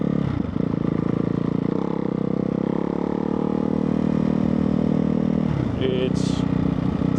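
A 2024 Ducati Hypermotard 698 Mono single-cylinder motorcycle engine runs steadily and close by, a loud continuous throb with a brief dip in the middle, while a voice talks over it.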